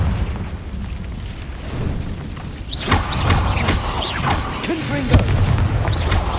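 Confringo fire spell blasts in the video game Hogwarts Legacy go off inside a cave as loud, booming explosions among game effects. There are a few heavy hits in the second half over a rumbling combat background.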